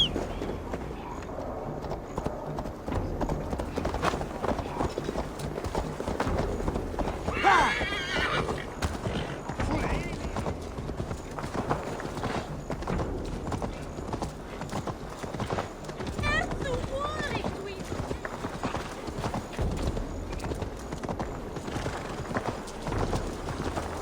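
A horse gallops with rapid clip-clopping hooves and lets out loud neighs and whinnies in the Assassin's Creed Valhalla video game, amid ongoing game action and voices.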